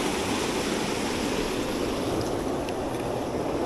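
The Seti River near Pokhara rushes in winter, a dense, steady wash of flowing water filling the air close by, with no voices.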